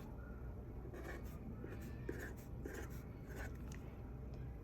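Pen writing on paper, close and faint, in short scratchy strokes separated by brief pauses over a quiet room hiss.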